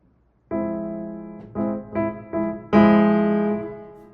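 A single sustained minor chord with a major seventh and E natural on top, played on an instrument and struck in several separate attacks, with a louder final hit that rings out alone.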